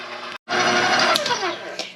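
Stand mixer kneading cinnamon-sugar pull-apart bread dough until the flour is incorporated, a steady loud mechanical whir with a brief stop near the start, then continuous motor drone with light knocking.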